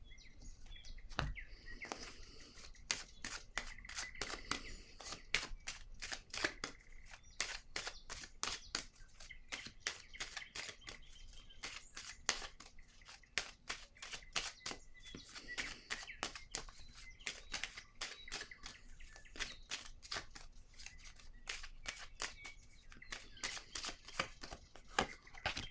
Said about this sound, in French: Je vais piger une autre carte pour avoir des détails.